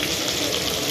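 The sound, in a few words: water being added to chicken masala while cooking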